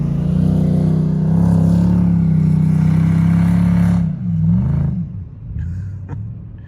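A 4WD's exhaust rumbles loudly and steadily, close by at an off-road 4WD outing, then the note drops and wavers as the vehicle moves past and fades.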